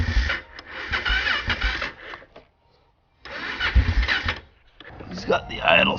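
An old quad's engine cranks on a weak battery in two long bursts of laboured churning separated by a pause, then sputters briefly near the end; a voice speaks faintly alongside.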